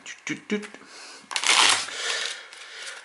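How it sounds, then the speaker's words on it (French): A deck of playing cards is cut and shuffled during a close-up magic trick, giving a bright, papery riffling burst at close range, with voices briefly heard at the start. "On va couper, on va mélanger même."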